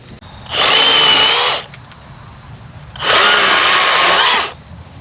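A power tool cuts through a wooden wall fastened with screws, two loud grinding bursts of about one and a half seconds each with a short pause between them.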